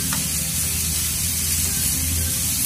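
Two big chopped onions sautéing in a couple of ladles of oil in a pan, a steady, loud, continuous sizzle and hiss with no talking.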